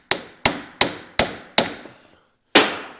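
A hammer strikes the rear wheel bearing hub of a 2011-2016 R60 Mini Cooper Countryman, giving five sharp, ringing metallic blows in quick succession, then a pause and one more hit, close and loud.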